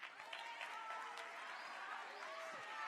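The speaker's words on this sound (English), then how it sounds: "Why did y'all just clap for two dudes holding a boat?" An audience at a Fall Riot student event breaks into steady, dense clapping and cheering for two people holding a boat, with a voice speaking over the applause throughout.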